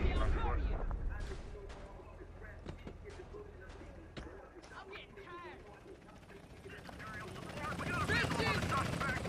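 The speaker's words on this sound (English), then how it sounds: "Oh, see a chopper? Shit, there it is." A police helicopter in the video game GTA thrums overhead amid game noise, with clicks and short bursts over a steady rotor rumble that swells louder toward the end, while players talk over it.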